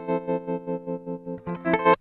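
Guitar through an Ibanez TRMINI mini tremolo pedal, wave knob at its center setting, chopping a sustained tone into about eight steady pulses before brighter strummed chords near the end, played alone.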